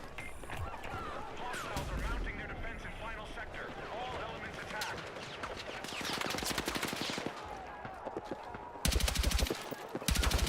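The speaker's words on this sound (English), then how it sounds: "It's the LMG that's basically an assault rifle." Bursts of LMG gunfire from the Battlefield 6 video game crackle through dense battle noise, with rapid shots layered over a continuous din and a loud burst near the end.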